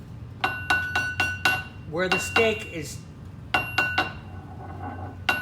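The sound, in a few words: hammering a stake through a box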